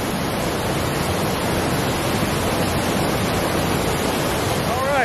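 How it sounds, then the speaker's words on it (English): A waterfall at Rock Creek Falls on a scenic hiking spur gives off a steady, broadband roar of falling water, close and unbroken for the whole stretch. "I've got this waterfall straight behind me."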